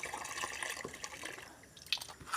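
Water trickles and drips into a container in short splashy bursts, fairly faint, with no voices, water being set out for a pigeon.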